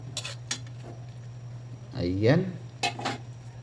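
Sautéed string beans and chicken liver are stirred in a pan for adobo, with repeated close clinks and scrapes of a utensil against metal and someone speaking briefly in between.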